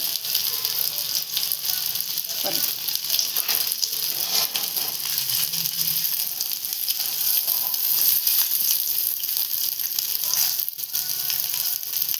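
Stale modak warming in a pan gives a steady, even sizzle with faint scraping and ticking over roughly twelve seconds, close by and unbroken, with no talk.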